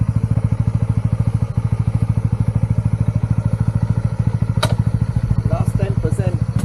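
Motorcycle engine chugging steadily as it climbs an off-road hill at Lake Toba, North Sumatra, a rapid, even low-pitched putter close up, with brief rattling clatter near the end.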